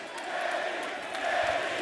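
Wrestling crowd in Indianapolis cheering Kenny Omega's entrance at an AEW Dark show, a broad sustained roar that swells slightly toward the end, faintly heard.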